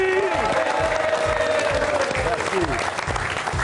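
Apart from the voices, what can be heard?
audience applause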